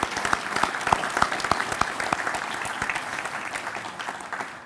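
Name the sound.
audience applause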